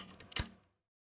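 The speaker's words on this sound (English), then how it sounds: "Door lock by 10 semitones up." A door lock pitched up ten semitones gives one brief, sharp, bright metallic click, heard alone and dying away quickly.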